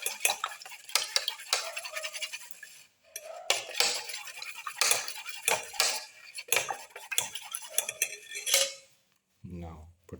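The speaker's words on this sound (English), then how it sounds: "Mix the eggs" Eggs beaten with cashew nuts in a bowl for a black pepper omelette: steady, close clinking and tapping of a utensil against the bowl in quick repeated strokes, with a short pause near the end.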